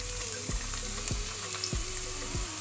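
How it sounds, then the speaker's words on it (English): Ayamase stew ingredients frying in hot oil in a pot, a steady close sizzle and crackle with a few soft stirring knocks spaced about every half second. "I'm going to allow this to fry a little bit"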